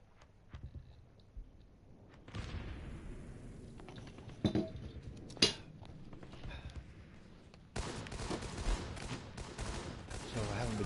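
Sniper tower fire in a shooter video game: a few sharp, scattered shots ring out over a busy bed of game noise, followed by a denser, steady rumble of action.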